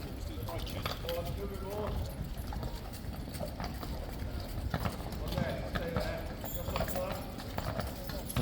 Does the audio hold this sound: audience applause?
no